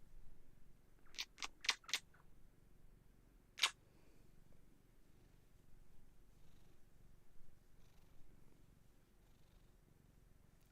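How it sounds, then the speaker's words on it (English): A cat purrs with a faint, low, steady rumble close by, broken by a few sharp clicks early on. "I love my cats."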